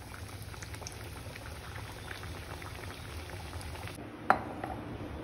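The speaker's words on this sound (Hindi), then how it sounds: "इसी तरह मैं सारी पूरियां फ्राई कर लूंगी।" Puris made from a Gujarati-style dough sizzle in hot oil, a steady, close, frothy bubbling hiss that runs throughout and then thins out near the end, with one sharp click and no talking.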